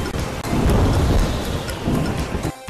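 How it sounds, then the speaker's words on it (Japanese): A video game thunderstorm: heavy rain pours steadily under rolling thunder, loud and dense, then breaks off abruptly near the end. "嵐がすごいですね。"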